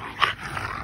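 An American bully dog lets out a short rough growl, close and moderately loud, followed by a low rumbling continuation in a brief burst.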